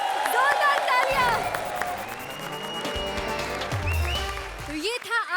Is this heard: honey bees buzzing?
no